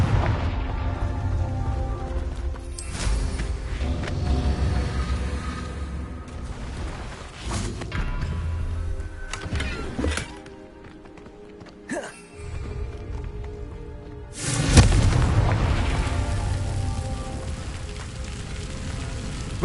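Fiery blasts from the Confringo spell in a Hogwarts video game roar over a dense bed of crackling rumble, with a sharp boom near the end and a voice speaking the spell.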